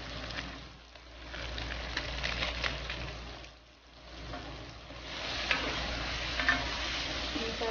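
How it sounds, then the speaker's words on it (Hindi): Spices stirred into mutton biryani frying in a pot, a continuous close sizzle broken by scraping strokes and a brief lull midway, with no talking. "मसालों को अच्छी तरह से मिक्स कर लेंगे।"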